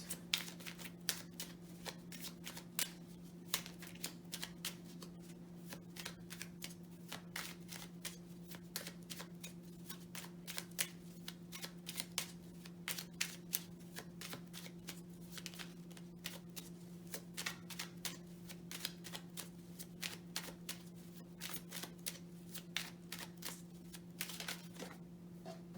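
Tarot cards being shuffled in quick, crisp riffling flicks, repeated steadily and close, over a faint constant electrical hum, with no talking.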